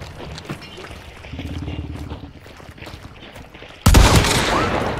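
A loud, close shotgun blast from the Alamo shotgun in the video game Hunt: Showdown goes off near the end, a single heavy boom with a ringing tail after quieter game ambience.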